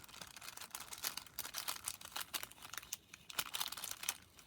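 Paper packaging around a Chic Sparrow journal delivery crinkles and rustles close up in a dense run of crackly handling noise, with brief sharper tearing-like bursts and no talking.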